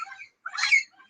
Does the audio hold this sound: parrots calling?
yes